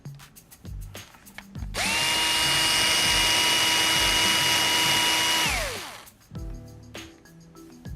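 A cordless drill/driver backs screws out of a Traxxas Slash LCG front differential housing: a close, steady whirring whine lasting about four seconds, then winding down, framed by small clicks and handling noises of the RC parts.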